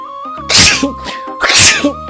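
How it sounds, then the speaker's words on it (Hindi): Two loud, close sneezes about a second apart, each a sharp burst, with a steady tonal background hum underneath. "ये तो छींकने में ही रह जाएगा।"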